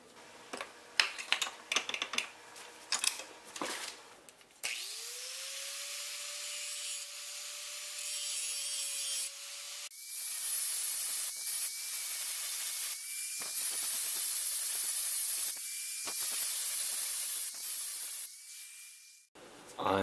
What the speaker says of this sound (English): I'll start by removing the bulk of the material with this grinding wheel attachment, and then I'll switch to a flap disc like this for fine tuning.